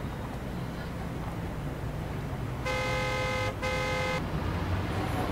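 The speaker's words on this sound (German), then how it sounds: "hör auf zu hupen" A car horn in the Creepy Driver video game honks in two sustained blasts with a short gap between them, loud over a steady rumble of engine and road noise.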